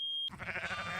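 A single short sheep bleat from a sound effects library, clear and close, following a brief high tone.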